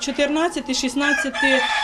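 A rooster crows loudly and close by, with hens clucking around it in a busy, continuous chorus inside a barn.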